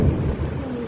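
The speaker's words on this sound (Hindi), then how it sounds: "बहुत जोर बिजली कड़क रही है, बाप रे बाप।" A deep, loud rumble of thunder rolls through a heavy thunderstorm with strong rain and wind, a short burst of low booming noise with no voices.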